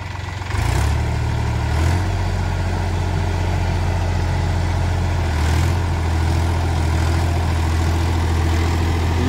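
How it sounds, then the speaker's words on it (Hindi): A Mahindra Yuvo Tech Plus 405 DI three-cylinder 40 hp tractor pulls a six-foot rotavator, its engine drone loud and steady and close, with a brief rise as it sets off. "भाइयों चल दिया ट्रैक्टर फिर"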